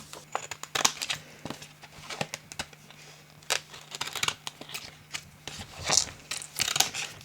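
Craft scissors snip through heat-transfer vinyl, trimming the corners of a sheet cut on a Cricut for custom T-shirts: a close, irregular run of sharp cuts mixed with soft crinkling of the vinyl.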